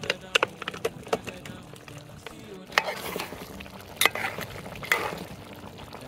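Meat cooking in a pot as red oil is stirred in, with a low bubbling bed under sharp scraping and knocking of a spoon against the pot and crackling sizzles, close by, with a brief spoken word.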